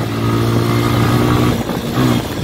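Motorcycle accelerating from a standstill in traffic, a loud, close, continuous engine drone with a rising, pulsing pitch and a brief dip midway before it surges again.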